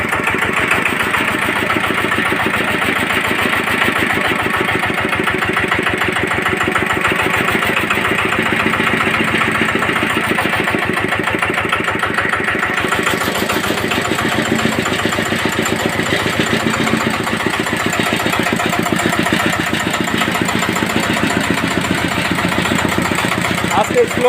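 An R190 single-cylinder diesel engine idles just after being started, a loud, close, steady rapid chugging with a rhythmic knock that runs unbroken throughout.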